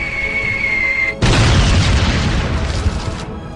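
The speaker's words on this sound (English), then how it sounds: "In an instant, the German camp is blown to pieces." A loud, sudden explosion from a rocket launcher strike on a German camp in a wartime battle scene bursts in after a steady tone and rumbles on as a sustained roaring blast for about two seconds before cutting off.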